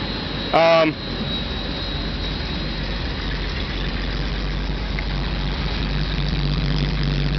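Datsun 280Z engine idling steadily after its spark plugs were cleaned, a constant low rumble throughout with a brief louder burst near the start.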